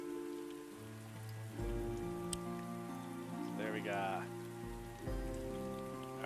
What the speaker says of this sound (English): Weather rain.